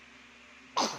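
A single sharp sneeze bursts out near the end after a quiet stretch of low background hum.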